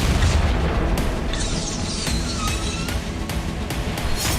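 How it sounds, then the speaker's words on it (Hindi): A car carrying a senior Russian army officer explodes, a loud, dense blast with heavy low rumble and sharp repeated bursts and cracks continuing over several seconds. "यहां रूस की सेना के एक सीनियर अफसर की कार में अचानक धमाका हुआ"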